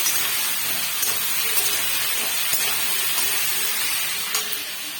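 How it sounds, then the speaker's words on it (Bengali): Papaya and potato pieces frying in a pan give off a continuous, even hiss of sizzling oil that runs throughout and fades slightly toward the end. "পেঁপে আলুটা ভাজছি"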